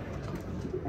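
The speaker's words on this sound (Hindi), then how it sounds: "ये कोई एक कबूतर पकड़ा है अभी मैंने" A caught pigeon, a blue bar racer, coos in a low steady murmur through a brief moment, close and fairly quiet with no talk over it.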